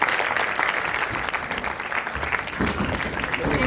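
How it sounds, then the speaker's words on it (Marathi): Audience at a Marathi indie music award night breaking into loud applause, a thick sustained burst of clapping from a large crowd with some voices underneath. "एकदा जोरदार टाळ्या"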